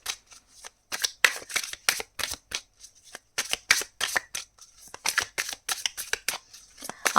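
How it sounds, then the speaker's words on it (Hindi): Tarot cards being shuffled by hand in steady repeated bursts of crisp riffling and flicking, close and clear, with short pauses between runs and no talking. "आप लोगों के सामने मैंने शफल कर दिए हैं सारे कार्ड्स"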